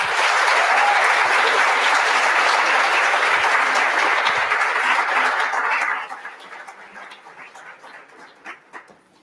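Dense audience applause at a university leadership awards night, loud and sustained for about six seconds before thinning into scattered claps and fading.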